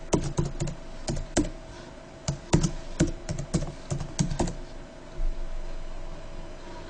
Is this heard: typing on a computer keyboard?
yes